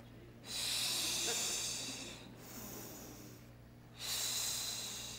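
An audience at a school district event breathes together in a deep breathing exercise: a long airy exhale, a pause, then another, soft and spread across the room over a low hum.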